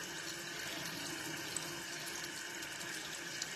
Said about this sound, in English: Now I'm gonna add a little water.